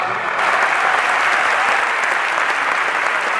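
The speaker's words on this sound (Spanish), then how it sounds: "para recibir el mejor aplauso de esta noche del público de Buenos Aires" An audience at a tango concert in Buenos Aires claps in a dense, steady burst of applause that fills the hall, loud and sustained.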